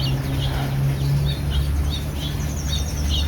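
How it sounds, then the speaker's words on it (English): Garden birds chirping in the evening, repeated thin high tweets at a steady pace over a constant low hum and background noise, moderately distant. "Evening in the garden is always so cool with the birds."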